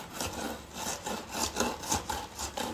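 A cement-sand mix is poked and compacted inside a hexagonal flower pot mould, giving repeated gritty scraping and rubbing strokes in an irregular rhythm, close up, with no talking.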